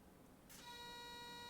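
Steady electronic beeping alarm inside a Train Simulator locomotive cab in a video game, a sustained tone starting partway through after a brief burst of noise, continuing without a break at moderate level.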